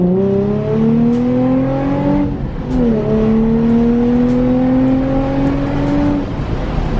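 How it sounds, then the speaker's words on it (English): A Nissan 350Z launches from a dead stop and accelerates up through third gear, its engine note climbing loud and close, then dropping at a brief shift pause before rising again. "now we're gonna do a launch from a dead stop all the way up through third."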